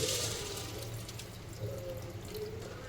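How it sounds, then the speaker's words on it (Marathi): Water trickles and drains from soaked basmati rice in a sieve in a soft, steady splashing rush, fairly quiet and close, with no voices. "त्याचं पाणी निचळून काढायचं"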